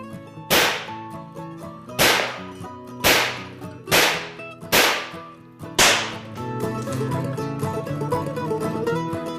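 A Crosman 2240 CO2 pistol fires indoors in a lodge warmed to about 75 degrees: five sharp, close cracks roughly a second apart, each with a ringing decay, followed by a steady reverberant wash.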